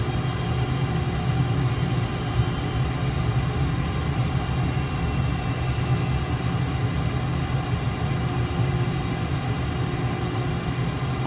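An F/A-18 Super Hornet's jet engines in MS Flight Simulator 2020 hold a steady, loud, unbroken rumble with a faint whine, running up power on the runway at Guernsey.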